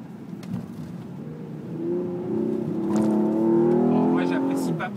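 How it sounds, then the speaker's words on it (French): A Hyundai Genesis Coupé V6 engine revs and climbs in a rising, tuneful note that grows louder over the second half, with a person talking over it. "On se demande même si Hyundai n'a pas particulièrement travaillé la sonorité de ce V6."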